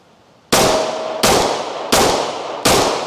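Four sharp, loud pistol shots from a Glock 45 MOS and a Sig P320 X-Carry, spaced about three-quarters of a second apart, each with a ringing outdoor decay.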